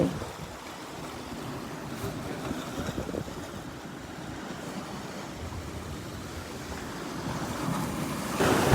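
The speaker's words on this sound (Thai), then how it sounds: "ให้ฟังเสียงทะเล" Sea waves washing onto a rocky Thai shoreline where stones shore up a roadside, a steady broadband surf wash with wind buffeting the microphone, rising slightly near the end.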